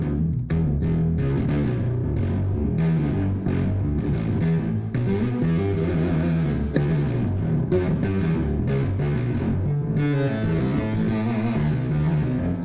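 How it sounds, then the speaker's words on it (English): A Hammond organ played through Marshall amps with the distortion turned up, giving a loud, gritty, sustained tone with shifting chords and stabbing attacks that runs without a break. "Now I'm gonna turn up the distortion on the Marshall ones."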